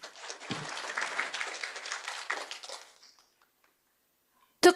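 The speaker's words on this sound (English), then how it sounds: "Let's give a warm round of applause again for the official opening of this year's conference" Audience applause at the opening of an academic conference, a dense burst of clapping lasting about three seconds that then stops abruptly, followed by near silence and a brief loud knock at the end.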